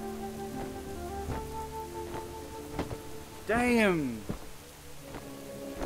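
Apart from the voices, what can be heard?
rain in World of Warcraft video game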